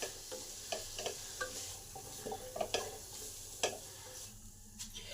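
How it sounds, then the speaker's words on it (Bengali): Potatoes stirred while frying in a spiced masala in a pan, a steady sizzle broken by repeated scraping and clinking strokes of the spoon at an irregular pace, fairly close with no talk. "এই আলুটাকেও 2 থেকে 4 মিনিট নেড়ে নেব, যাতে আলুর কাঁচা গন্ধটা চলে যায়"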